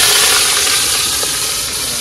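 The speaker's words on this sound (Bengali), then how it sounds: "ঝোল কিন্তু ফুটে গেছে" Fish curry gravy boiling in a pot gives off a loud, steady hiss of bubbling and steam that barely changes over the short stretch, with no talking.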